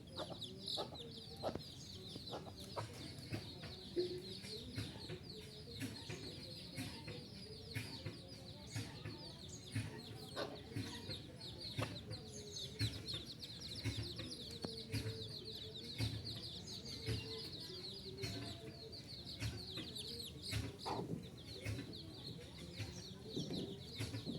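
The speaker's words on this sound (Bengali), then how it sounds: "এই যে মা খাওয়াচ্ছে মুরগির বাচ্চা" Native village hen clucking steadily while feeding her chicks in a rural yard, soft chick peeps mixed in, continuous and fairly close, with faint background talk.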